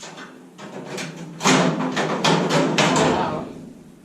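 Metal creaking, clunking and thudding as a 1935 Ford truck firewall is worked back and forth to break its spot welds, a series of close, loud irregular knocks and scrapes.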